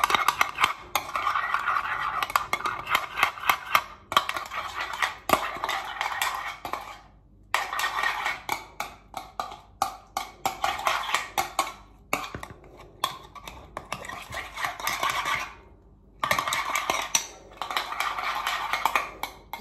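A utensil mixes tomato tart filling seasoned with pepper and salt, giving quick repeated clinks and scrapes against a bowl in bursts with short pauses, close and fairly loud.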